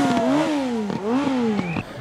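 A motorcycle engine at a yellow-vest protest, revving in a rising-and-falling pattern with several throttle blips, fairly close and prominent against background noise.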